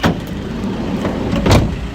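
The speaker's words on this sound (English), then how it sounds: "step goes back in again automatically" A short mechanical whir and clunk of the automatic side step retracting on a 2016 Ford Transit 2.2 TDCi minibus, close by, with a sharper knock near the end.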